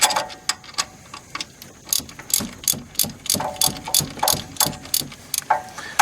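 A socket ratchet clicks in quick, uneven bursts while working on seized, roughly 20-year-old spark plugs in a 1970 Nova engine, close and loud with no talking.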